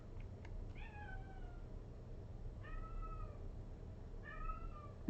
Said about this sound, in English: Can you guys hear the cat?